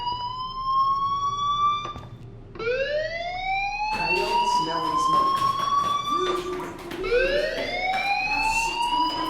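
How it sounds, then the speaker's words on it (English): In the Life is Strange video game, a school fire alarm whoops in repeated rising electronic sweeps, loud and continuous across the whole stretch. "Hey, do you hear that fire alarm?"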